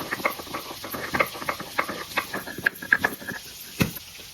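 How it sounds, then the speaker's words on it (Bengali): Ginger and garlic are crushed on a shil-nora grinding stone, heard as a close series of irregular scraping, gritty taps and pats with a sizzle of frying meat faintly behind. "এদিকে আমি শিলনোড়ায় একটু আদা রসুন বেটে নেব"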